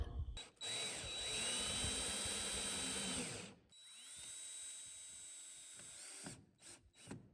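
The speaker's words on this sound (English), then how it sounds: "Pre-drill your holes, people." A power drill whirs in two bursts while pre-drilling holes in a truck camper, its motor pitch steady while running and winding down at the end of each burst, with brief pauses and clicks between.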